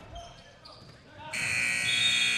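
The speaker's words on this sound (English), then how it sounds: "the shot didn't leave the hands of its hurler, Morey, until after the buzzer sounded" A basketball game buzzer at a college matchup between Southwest Mississippi and Coastal Alabama North sounds a loud, steady electronic tone that cuts in abruptly and holds to the end, following crowd and court noise.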